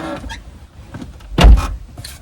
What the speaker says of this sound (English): You know I'm gonna pop that door.